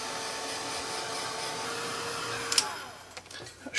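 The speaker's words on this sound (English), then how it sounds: "let's just dry the edges of that off" A heat tool or dryer blowing steadily close by to dry wet paint edges on a mixed media art journal page, a constant whooshing hum that cuts off near the end.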